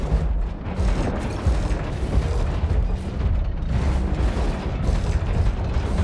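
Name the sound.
robots launching missiles, video game War Robots: Frontiers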